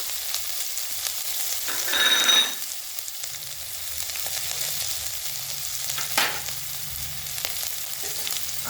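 Green chillies and curry leaves frying in hot oil for a dangar bhaji, a continuous soft sizzle with a brief louder crackling burst near the start and another short spike later.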